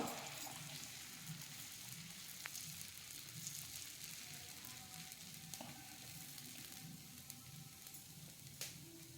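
Dosa batter sizzles steadily on a hot griddle, a continuous low crackling hiss heard close and fairly quiet, with a few faint clicks over it.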